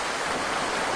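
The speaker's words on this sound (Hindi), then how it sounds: "बहता हुआ पानी" Flowing stream water rushes in a dense, steady, fairly loud wash that continues without a break.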